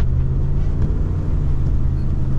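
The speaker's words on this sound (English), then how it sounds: "This thing just has no power. Foot to the floor, going 14 miles an hour, plowing powder." A pickup truck's engine drones at full throttle with a heavy, steady, straining rumble as it plows through deep powder snow at low speed. The sound is loud and close, with no talking over it.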